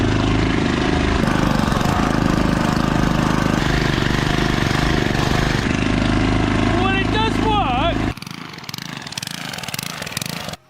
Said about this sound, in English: the engine runs and it does turn the wheels